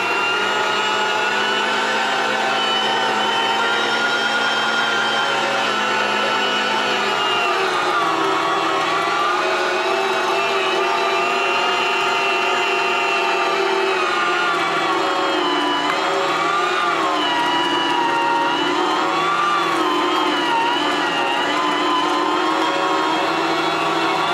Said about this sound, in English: I'm just gonna start grinding up this meat